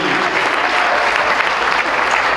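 Loud, dense applause from guests at a wedding reception, a sustained wash of many clapping hands throughout, close and even, with no voices standing out.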